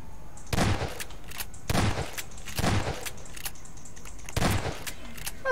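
Bursts of gunfire from the video game Garry's Mod come in four separate volleys at fairly regular intervals, sharp and fairly close over a quiet background.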